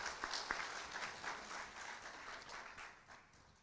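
A church congregation applauds, a faint, distant patter of many hands clapping that swells briefly and then slowly thins out, with no talk over it.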